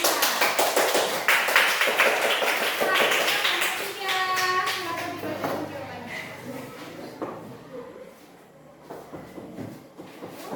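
Sixth-grade pupils in a classroom clap for a student group, with a burst of close, brisk clapping at the start that fades into children's chatter and shuffling.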